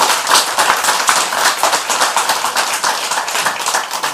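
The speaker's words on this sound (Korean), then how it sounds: "박수 쳐주세요." Loud, dense clapping from a congregation at a Friday Buddhist dharma service in a temple, continuous for several seconds with no speech over it.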